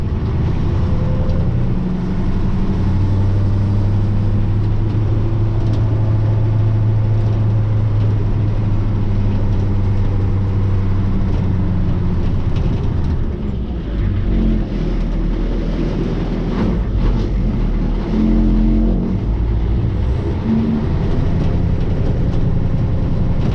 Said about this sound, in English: we'll get the old truck fired up and move the trailer down